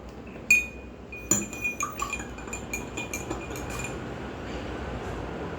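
A spoon clinks against a glass of colored water in a quick run of light taps, fading as stirring slows, then quiet; no one speaks.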